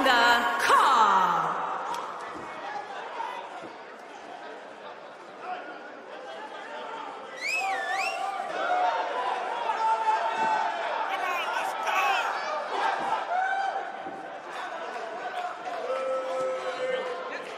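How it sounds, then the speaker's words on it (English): Arena crowd noise in the WWE 2K19 wrestling video game before a battle royal, a steady murmur of chatter and cheering that swells mid-clip, with an occasional whistle over it. "It sounds to me like this crowd is ready to get this battle royal underway."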